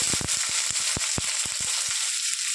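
Green chillies frying in hot oil crackle with loud, steady sizzling and a run of sharp popping bursts close by, with no talking.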